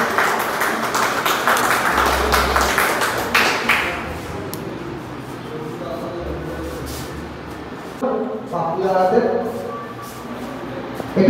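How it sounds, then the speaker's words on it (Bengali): An audience claps at a prize distribution for a pigeon club competition, with a burst of fairly loud applause for a few seconds before it fades and a voice speaks over the room. "একটু হাত তালি হোক খেলার জন্য।"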